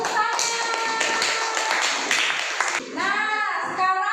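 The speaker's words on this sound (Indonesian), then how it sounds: "tepuk tangan." Students in a classroom clapping hands together during a science lesson on sound travelling through solids, a steady run of close claps followed by brief voices.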